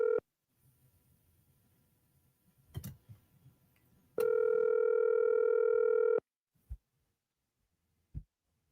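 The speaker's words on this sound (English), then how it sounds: "I'm making a call here." A telephone dial tone sounds briefly, followed by a few soft handset clicks, then a steady two-second tone and a couple of isolated dialing pulses, clear and close with no talk.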